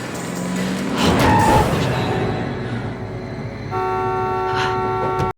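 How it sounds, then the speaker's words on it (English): Car horn blasts in an X-Files episode, scene of escaping aliens, sustained honking tones with a steady pitch, loud, over engine and ambient noise, with a second longer blast near the end. "just blast them with the horn"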